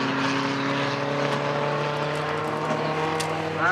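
A little Pinto race car's engine holds a steady, buzzing tone on the track, fairly loud and continuous, with the pitch climbing sharply right at the end.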